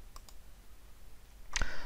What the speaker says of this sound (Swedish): Och sen klickar jag OK.